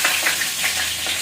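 Garlic frying in a pan for pasta, a loud dense sizzle with a few soft stirring pulses over about a second, close up and with no voices.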